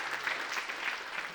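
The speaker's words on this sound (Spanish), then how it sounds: "Démosle un fuerte aplauso a Jesús en esta mañana." A church congregation claps together in a brief, fairly faint burst of steady applause.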